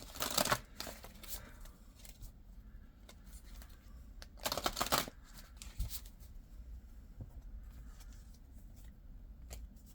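Oracle cards being shuffled by hand, two brisk riffling bursts a few seconds apart with soft card handling between, close but quiet.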